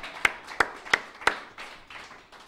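A church congregation claps in steady rhythm, four loud, evenly spaced claps followed by softer, looser clapping that trails off.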